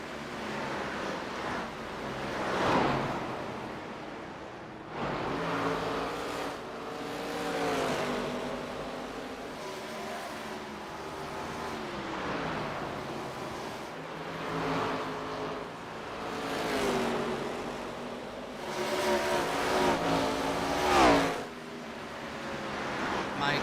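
ARCA stock race cars racing at Richmond Raceway, engines passing in repeated rising and falling waves of revving roar, some near and some farther off, with a commentator talking over them.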